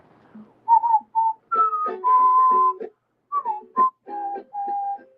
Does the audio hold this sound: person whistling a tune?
yes